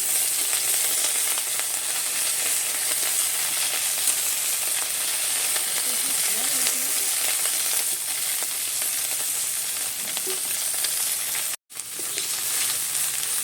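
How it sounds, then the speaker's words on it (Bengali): Small puti and mourala fish fry in mustard oil with salt and turmeric, making a loud, dense, continuous sizzle close by, broken by one brief dropout near the end; no voices. "লবণ হলুদ দিয়ে আর মৌটি মাছগুলো পুঁটি মাছগুলো ভেজে নেব।"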